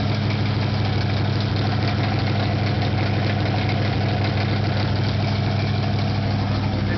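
A Chevy Nova's engine with a thumper cam and 2.5-inch Flowmaster mufflers idling at its first start-up, a loud, continuous rumble with a choppy, lopey pulse, heard up close.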